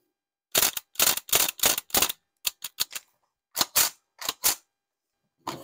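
A CO2-powered MP40 replica air gun fires a quick burst of sharp snapping shots, then a few shorter volleys with pauses between them, close and clear with no talk.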